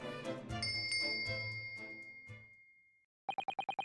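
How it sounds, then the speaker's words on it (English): A bell cord is pulled in the video game The Great Ace Attorney Chronicles, producing bright ringing bell tones with a lingering chime over soft music, followed by a quick series of short repeated dings. "She barely hesitated there and she gave it a good tug too."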